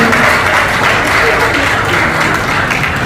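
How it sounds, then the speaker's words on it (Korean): Audience applause at a horse-racing trainers' association retirement ceremony honoring retiring trainers, a steady, loud wash of clapping filling the whole stretch with a murmur of voices beneath. "네, 박수 보내주시고요"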